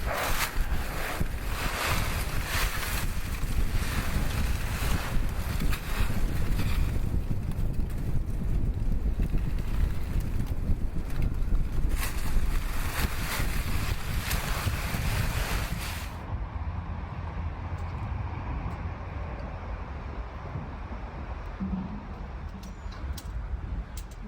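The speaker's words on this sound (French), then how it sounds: "En plus, il y a du vent, il y a des feuilles" Wind blows steadily outdoors in a parked spot among leaves beside a camper van, with a loud broadband gusting roar that rumbles against the microphone for about sixteen seconds, then eases to a softer, duller rush.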